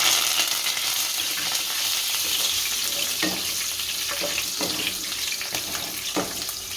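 Curry leaves, chana dal and urad dal fry in hot oil for upma, a steady, hissing sizzle with occasional soft stirring knocks, close and continuous without speech.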